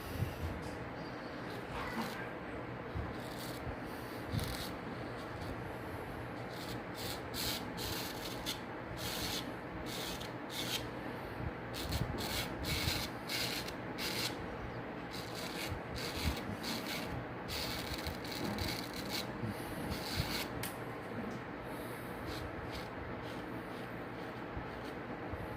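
A wet-shaving razor drags against the grain over stubble, a close, steady raspy scraping made of quick repeated strokes that runs on without pause, soft in overall level.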